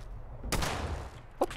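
A gunshot in the PC game Fallout 76 bursts out sharply about a third of the way in, followed near the end by a couple of shorter, clipped reports.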